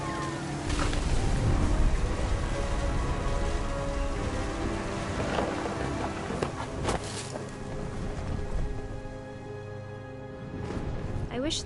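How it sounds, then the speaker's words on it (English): Heavy rain with rumbling thunder in the video game What Remains of Edith Finch, a dense, steady downpour with deep rolls of thunder, heard under a narrating voice. "The thunder sounded much too close and full of angry power."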